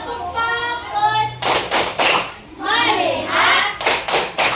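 Children in a classroom play a focus clapping game, chanting together in a group while bursts of sharp rhythmic claps in quick sets of three break in between the sung phrases, close and loud.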